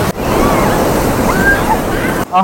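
Rough ocean waves break and wash continuously on a beach in Chennai, a loud, steady roar of surf with wind noise over the microphone, ending abruptly near the close.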